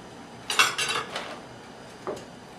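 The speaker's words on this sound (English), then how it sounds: "We're gonna take the top off and scoop out some of the membrane." Bell pepper having its top removed and seeds and membrane scooped out, a few close, brief scraping and clinking bursts of utensil against the pepper, then a pause and one more short scrape.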